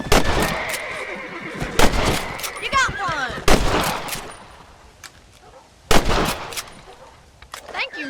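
Gunfire in the Western video game Red Dead Redemption, with several loud sharp shots spaced a few seconds apart, a horse neighing between them and a faint voice in the background.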